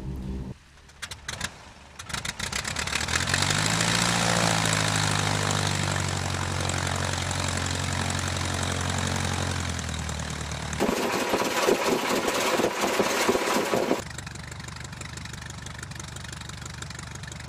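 A de Havilland Tiger Moth biplane's propeller engine idles on the ground, a steady loud droning putter with a low throbbing pulse that shifts pitch and roughens midway, then settles back to a lower idle.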